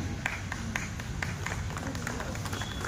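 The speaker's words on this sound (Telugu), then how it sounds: "చప్పట్లు కొట్టాలి అందరం." Audience clapping at a primary school teachers' training meeting in Tandur, a steady patter of many hands with sharp individual claps, moderately near, with voices murmuring underneath.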